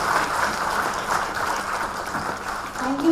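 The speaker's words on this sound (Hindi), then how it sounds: "तालियों की गूंज." Applause at an award ceremony: a steady, moderately loud wash of clapping from an audience that lasts throughout, with a voice over a public address system briefly audible toward the end.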